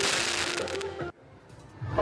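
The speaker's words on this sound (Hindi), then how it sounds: "रावण दहन के बाद वहां आतिशबाजी की गई" Dense crackling bursts of fireworks set off after a Ravan effigy is burned at a Dussehra celebration in Banswara, loud and continuous, then a sudden drop to quiet before the crackle returns.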